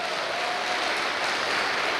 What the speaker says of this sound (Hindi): मैं चाहूंगा उनके लिए जोरदार ताली बजाइए।